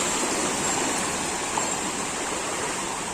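Knee-deep rainwater flooding a street in Old Dhaka makes a steady, dense rushing and churning noise, loud and continuous throughout, with no speech.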